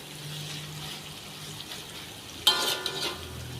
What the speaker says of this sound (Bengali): পেঁয়াজ মরিচটা কষিয়ে নিলাম